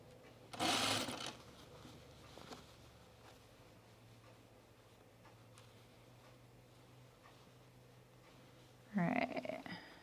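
A sewing machine restitches a seam on a Fairfield button-up shirt, running in two short, loud bursts near the start and end with a quiet, low hum in between.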